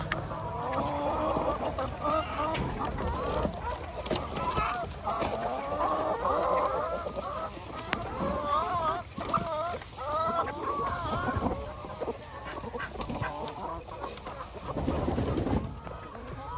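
A flock of chickens clucking and chattering nonstop, many overlapping calls close by over a steady outdoor background.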